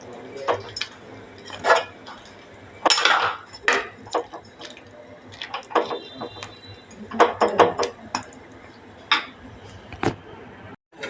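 Fish curry with mango and coconut milk stirred in a pot, a series of irregular metallic scrapes and clinks of a utensil against the vessel, close and intermittent with quiet gaps between strokes.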